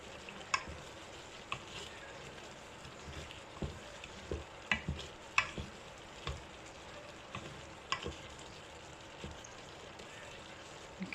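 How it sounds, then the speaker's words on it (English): Prawns cooking in cream inside an open pressure cooker, giving a steady soft sizzle and bubbling with scattered stirring clicks and scrapes throughout, fairly quiet and close. "Now can you see it's nicely cooking the prawns?"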